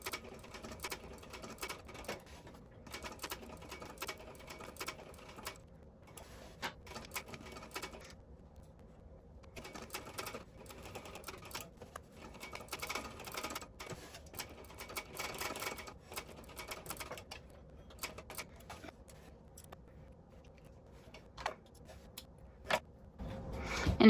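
A sewing machine stitches a Windsor Bag by Harrow Lane across the bottom seam, in bursts of rapid mechanical clatter separated by short pauses, close and fairly quiet, with no talking.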